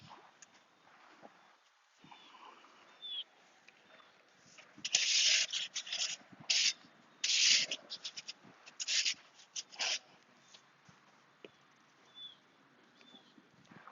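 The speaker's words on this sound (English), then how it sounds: "let me get the rake" A rake drags through sand in a golf bunker, producing several rough scraping strokes in bursts through the middle of the clip, fairly close, with quieter handling sounds before and after.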